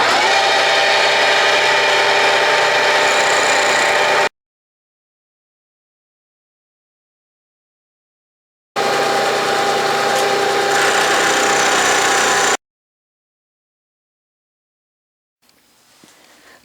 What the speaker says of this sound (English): And now I'm milling it down to the layout lines,